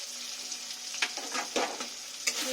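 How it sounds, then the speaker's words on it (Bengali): Spice paste with chili powder frying in oil for a katla fish curry, a soft sizzle under sharp, irregular scrapes and clicks of a spoon against the pan. "একটু ভালো করে আমি মশলাটা কষে নেব, যতক্ষণ না তেল ছেড়ে দেবে কষতেই থাকবো"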